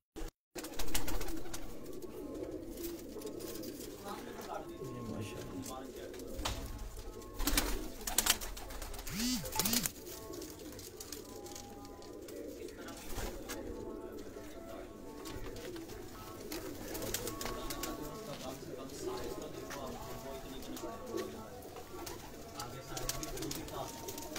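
Pigeons kept on a rooftop coo softly now and then amid busy outdoor background noise, with people talking nearby.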